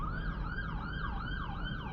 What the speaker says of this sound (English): It's a police car.